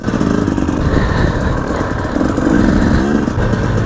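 A 2018 KTM 300 two-stroke enduro motorcycle engine drones loud and close during a hare scramble race, a continuous buzzing run with slight rises in revs and no speech.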